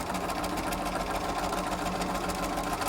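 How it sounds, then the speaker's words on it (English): A sewing machine runs steadily, stitching an accurate quarter-inch seam on quilt pieces, with a continuous close mechanical whir and rapid needle chatter and no talk. "I'm just doing a nice accurate 1/4 inch seam"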